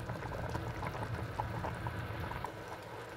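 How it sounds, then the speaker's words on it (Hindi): Pure desi ghee being poured into a pot of chicken yakhni soup gives a soft, steady trickle with faint bubbling and sizzle, quiet and close, with no one talking. "लेकिन मैं देसी घी ऐड कर रही हूँ, इससे इसका फ्लेवर बहुत अच्छा आएगा।"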